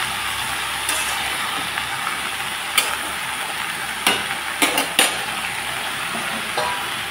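Ingredients are stirred in a pan on the stove after ground spice and salt go in, giving a steady sizzling bed with several sharp scrapes and clinks of a utensil against the pan, close and fairly loud, with no talking.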